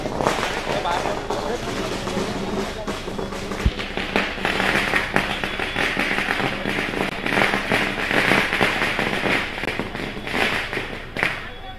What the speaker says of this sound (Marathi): चार जून साठी थोडे फटाके ठेवा।